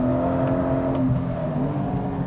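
Porsche 718 GTS 4.0 flat-six engine on a racetrack, heard close from the cabin: a strong steady engine drone whose pitch sags and then shifts around gear changes heading into a chicane, continuous with no talk.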